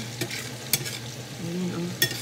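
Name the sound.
garlic frying and sizzling in a pan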